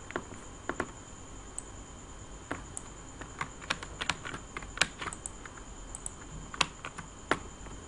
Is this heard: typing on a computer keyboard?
yes